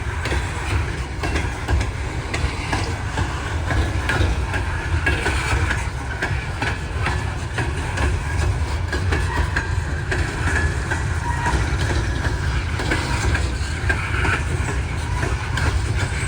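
Intermodal freight train crossing over a coal train in Kenova, West Virginia, a steady loud rumble of rolling railcars with faint clickety-clack, continuous and close throughout with no talk.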